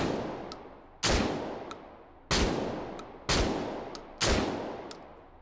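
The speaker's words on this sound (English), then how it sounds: "I'm going to breach using the shotgun." Four loud, sharp shotgun blasts fired while breaching a door in the VR shooter Hot Dogs, Horseshoes & Hand Grenades, spaced about a second apart, each with a decaying tail.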